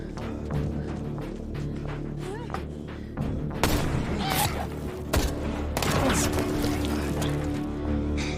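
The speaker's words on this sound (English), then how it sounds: "Who the hell is shooting at us?" Gunfire erupts in a film scene, rising from scattered cracks to loud bursts of shots and booms against a busy, noisy background.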